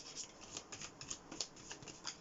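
Tarot cards being shuffled and handled close up, with quick soft riffles and rubbing slides of the cards in a light, uneven rhythm.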